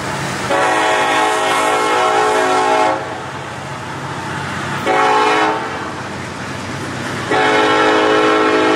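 Norfolk Southern freight train 285, led by the Savannah and Atlanta 1065 heritage locomotive, sounds its loud horn in three long blasts over the rumble of the passing train in the warm Georgia sun.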